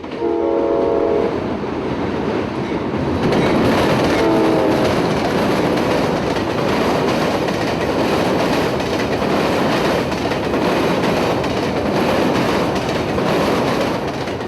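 Amtrak 97, the southbound Silver Meteor passenger train, passes over an old bridge at Indiantown, Florida, with a loud horn chord at the start and again briefly, then a steady roar and rumble of rail cars rolling by close.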